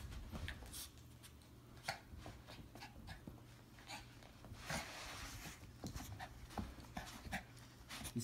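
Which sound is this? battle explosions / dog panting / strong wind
dog panting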